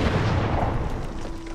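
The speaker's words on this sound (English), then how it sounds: "I'm going to throw another grenade now, aren't I?" A grenade blast in Fallout 76 booms loudly at the start, then rolls off into a lingering rumbling decay over about a second and a half.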